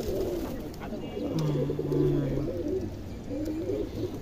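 A young pigeon among fancy breeds in a loft coos in soft, low, repeated phrases, fairly close, over faint background noise and brief, distant-sounding murmurs.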